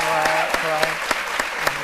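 Applause on a live Ivorian midday TV show set, with broad steady clapping running through and a few sharper claps standing out, while a voice carries on underneath.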